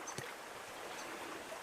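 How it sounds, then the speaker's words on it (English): A river swollen after heavy rain flows with a steady, soft rushing hiss, faint and continuous, with a light splash or knock near the start. "There's the river up in there."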